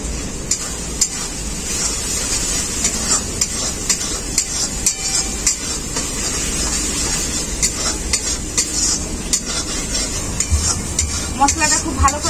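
Masala for crab curry frying and being stirred in a pan, a constant loud sizzle broken by frequent sharp scrapes and knocks of a spatula against the metal.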